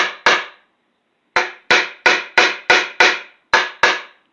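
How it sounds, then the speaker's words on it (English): Nine sharp hammer taps drive Tune-O-Matic bridge studs into drilled holes in a guitar body: two quick hits, a pause, then a steady run of evenly spaced, close, loud strikes, each ringing briefly before dying away. "we're ready to pop these, tap these studs down in there. Just tap these down in here."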